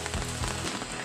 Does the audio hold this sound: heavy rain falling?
yes